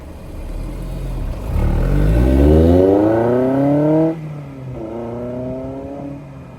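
Honda S2000 engine fitted with AP2 squirters, retainers and keepers revs up with rising harmonic tones, holds high for a moment, then drops back and blips again, loud and close with no voices.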